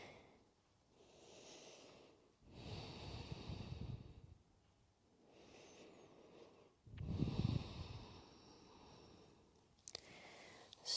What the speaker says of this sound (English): Two more full cycles of breathing.